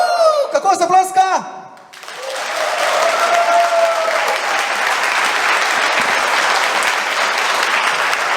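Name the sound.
audience clapping at a charity concert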